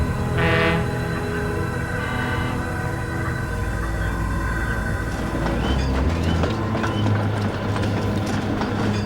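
A locomotive pulls a train of tankers, with a dense, continuous rumble and clatter. A short horn hoot sounds near the start, followed by chugging and clanking as the train runs steadily, with no speech.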